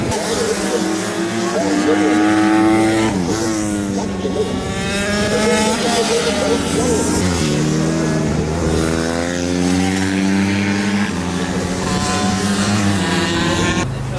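Mini bikes racing at a supermoto race start, several small high-revving engines whining up and down through gear changes, loud and close with overlapping pitches, under faint commentary.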